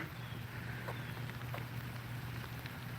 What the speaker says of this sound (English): Wow, it's starting to pour now.